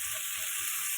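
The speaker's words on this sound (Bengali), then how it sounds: "আদা আর কাঁচা লঙ্কাটাকে কিন্তু একটু হালকা করে ভেজে দেবো" Ginger and green chili lightly frying in oil in a pan for pea kachori filling, a steady, close bright sizzle with faint stirring underneath and no talk.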